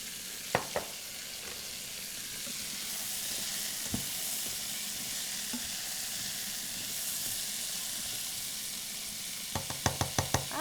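Sliced, finely chopped mushrooms sizzling in a hot pan, a steady frying hiss throughout with a few sharp knocks of a utensil against the pan, the loudest coming in a quick cluster near the end.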